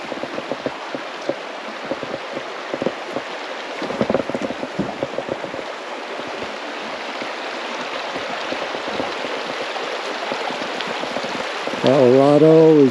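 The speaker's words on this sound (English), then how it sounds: "we've stopped today for lunch right on a creek" A mountain creek on Park Creek Road in Colorado rushes steadily with broadband splashing and gurgling throughout, with a brief vehicle or engine-like tone near the end.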